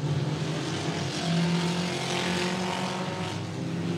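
Race cars at Cotton Bowl Speedway, a continuous droning engine roar from a pack of cars running together, steady and moderately distant.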